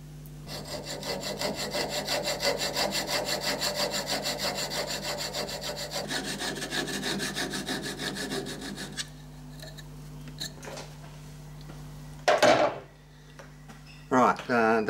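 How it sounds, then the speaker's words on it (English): A hand saw cutting a part for a DIY mid-century modern bedside lamp to length, with quick, rhythmic rasping strokes for about nine seconds, then a few close knocks and handling sounds in a quiet room. "I think I'm just going to do that with a saw"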